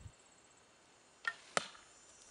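Two quick, sharp arrow impacts crack close by against softwood slat armor, a lighter thwack followed a moment later by a harder, brighter strike, over a quiet background.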